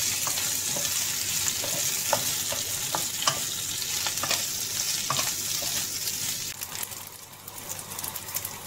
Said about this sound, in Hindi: इनको 2 मिनट हमने अच्छे से भून लिया है